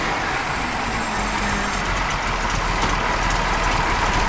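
A 1967 Chevrolet Camaro RS/SS with matching-numbers engine runs steadily nearby, a constant, rough low rumble with a dense broadband texture and no talking.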